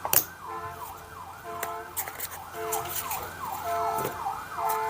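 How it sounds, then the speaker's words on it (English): A wailing emergency siren rises and falls repeatedly at moderate distance, with a sharp horn blast at the start amid street noise. "Hear a siren and a horn honking at the same time."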